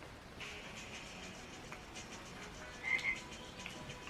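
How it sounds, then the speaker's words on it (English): A frog croaks in short faint bursts over a low hum, with a brief louder double croak near the end and no talk. "Where'd that frog come from?"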